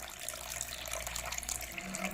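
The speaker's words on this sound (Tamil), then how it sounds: "வெது வெதுப்பான தண்ணி ஒரு கா கப்பு தண்ணி ஊற்றிக்குவோம்" Lukewarm water pours in a steady, continuous stream close by for a couple of seconds, with no talking.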